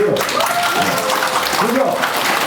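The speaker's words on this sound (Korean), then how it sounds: "박수 한번 주세요." Lecture audience applause at a senior welfare centre in Incheon, a dense continuous clapping wash with voices and cheering mixed through it.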